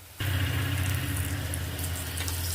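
Water poured from a tap or jug onto chili powder and coriander powder for mixing into a paste for Kerala-style fish curry; a steady, close pouring rush starts abruptly and runs continuously without talk.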